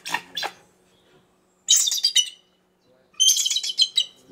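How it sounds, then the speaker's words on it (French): A captive bald eagle on a film shoot at Perros-Guirec gives three bursts of high, chattering chirps, loud and close. The bursts are separated by short silences. "une aigle pigargue à tête blanche"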